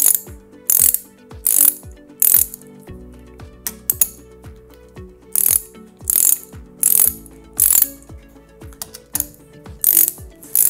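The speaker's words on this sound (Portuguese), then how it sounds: "Com a ajuda de uma soquete 17, um prolongador e uma catraca, solte esses parafusos." Ratchet wrench turning a 17 mm socket on an extension to loosen torqued hex bolts on a Yale pneumatic air hoist: repeated bursts of crisp clicking in short strokes, close and loud, with metallic ticks between them.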